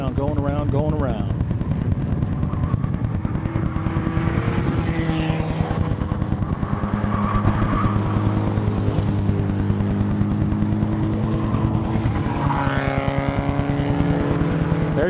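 Several race cars lap an oval track at a 2006 raceday, their engines droning loudly and continuously as they pass, with a public-address announcer talking over the roar throughout.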